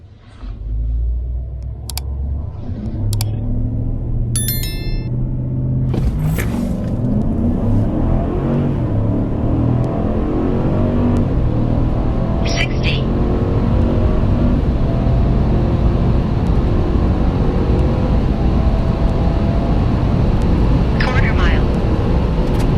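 A car driven in four-wheel drive on slippery pavement accelerates steadily, its loud engine rumble rising and holding throughout, with a few brief clicks and beeps early on.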